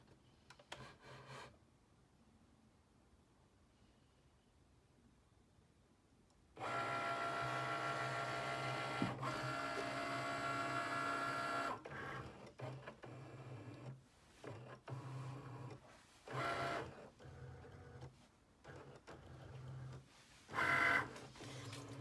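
A Cricut cutting machine scans calibration lines on printable heat-transfer vinyl, starting with a faint hum, then a steady whirring motor run for several seconds, followed by shorter start-stop bursts of mechanical whirring.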